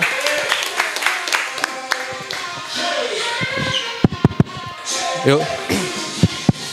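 An audience claps in scattered, uneven bursts, with a few sharp individual claps standing out over a murmur of voices and talk.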